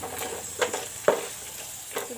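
Tadka tempering for a masala khichdi sizzles in a pan over a medium flame, with crackling spatter and a few sharp scraping stir strokes, close and moderately loud, no talking.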